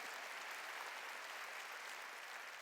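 A church congregation applauds together, a steady, dense wash of clapping that holds evenly throughout at a moderate distance, with no talk over it.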